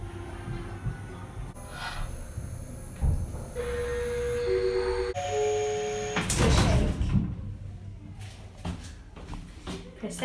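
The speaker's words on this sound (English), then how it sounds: "Press this one, and the door opens." A lift door slides open after a button press, with a mechanical rumble and whoosh, preceded by electronic beeps and tones in a small enclosed car.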